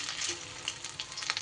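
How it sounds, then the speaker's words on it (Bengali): Poppy seed fritters frying in a pan while being turned, a short burst of bright sizzling and popping oil with faint stirring scrapes, close and without voices. "নাড়িয়ে চাড়িয়ে দেখুন বড়াগুলোকে ভেজে নিচ্ছি।"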